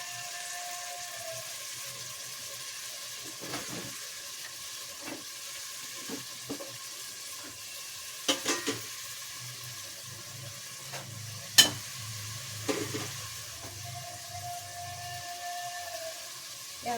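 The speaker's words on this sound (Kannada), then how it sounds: "ಈಗ ಈರುಳ್ಳಿ ಹಾಕ್ಕೊಂಡು ಒಂದು 5 ನಿಮಿಷ ಕಾಲ ಫ್ರೈ ಮಾಡ್ಕೊಳ್ಳಿ." Onions fry in a pan with a soft, steady sizzle, while a few clinks and stirring scrapes come through close by and no one speaks.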